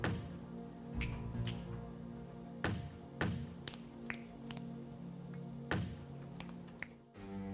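Sparse knocking taps on a hard surface, several isolated thuds and sharp raps spaced irregularly over a low steady hum, fairly faint and without talk.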